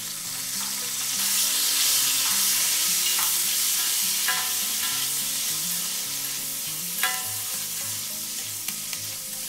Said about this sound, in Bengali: এবার আমি এই সময় একটা ফুলকপি এই আলুর সাথে ভেজে নেব।